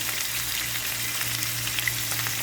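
Steak and garlic frying in hot oil in a pan, a steady close sizzle with faint crackles and pops running throughout, no voices.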